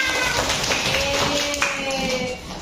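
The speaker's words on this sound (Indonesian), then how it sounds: "Mari tepuk tangan." Hands clap in a quick, light patter under a faint musical tone, a short burst that fades toward the end.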